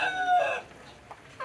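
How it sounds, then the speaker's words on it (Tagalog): A rooster kept with laying hens lets out one short, loud crow. It drops off into near quiet, broken only by a couple of soft clucks. "So ayan yung isang manok"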